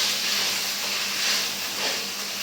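Onion paste frying in hot oil gives a steady, loud, close sizzle and hiss that holds without a break, with no voices over it.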